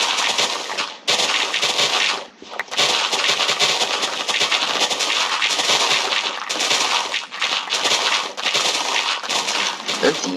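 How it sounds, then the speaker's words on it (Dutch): Dense, continuous crackling blasts from TNT exploding in the video game Minecraft, loud and sustained with only brief dips, like rapid overlapping explosions. "Een TNT explosie."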